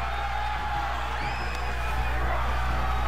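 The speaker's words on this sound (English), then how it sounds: "The crowd is loving this match already to start it off" Wrestling arena crowd in WWE 2K22 keeps up a constant cheering roar, with scattered whoops and yells surfacing above the dense, even crowd noise.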